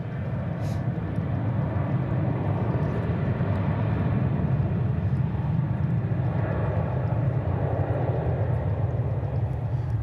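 An American Airlines jet departing Dallas/Fort Worth for San Diego gives a continuous, fairly loud engine roar, broadband and rumbling, sustained throughout with no voices.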